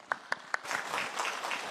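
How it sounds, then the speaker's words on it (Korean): Applause in a church during a Wednesday prayer service, opening with a few sharp single claps before a soft, steady patter of clapping from the congregation. "감사의 박수를 하겠습니다"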